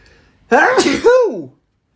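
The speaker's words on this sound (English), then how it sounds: "I'm just gonna sneeze" A single loud, close sneeze, a sharp burst followed by a trailing vocal release, then silence.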